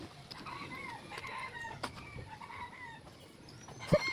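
Chickens cluck and call at close range, with a rooster crowing briefly among them and a sharp knock near the end.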